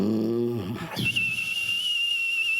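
A man vocally imitates a snore nicknamed the plane crash, a low rattling drone that breaks into a long, steady high whistle as he performs alone on stage.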